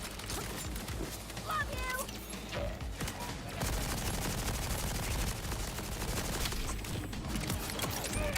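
SMG fire in a video game rattles in rapid bursts, dense automatic shots running through most of the stretch, fairly close, with someone talking over parts of it.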